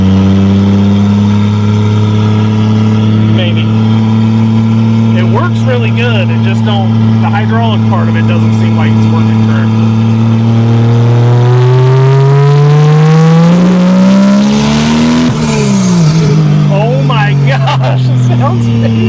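A naturally aspirated-to-turbo 2JZ-GE engine swapped into a MK3 Toyota Supra, previously misfiring and breaking up under boost, idles loudly and then revs up hard with rising, sweeping pitch, close and continuous.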